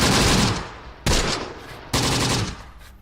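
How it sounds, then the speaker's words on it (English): Machine-gun fire aimed at an MG team in the WWII strategy game Close Combat: The Bloody First, in a desert map: three loud, sharp bursts of rapid shots, each fading out before the next hits, with no voices. "We got some nice gunfire going down at that MG team right now."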